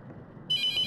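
A telephone in the horror game The Mortuary Assistant starts ringing partway through, a bright electronic trill that cuts in suddenly over a quiet low background and continues, clear and fairly near.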